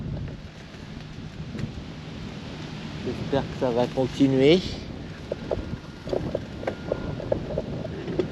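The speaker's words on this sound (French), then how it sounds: "Bon, il y a toujours beaucoup de vent." Strong wind rumbles steadily across the microphone during a cycling tour stage on the way back into France, with someone speaking briefly in French over the gusts.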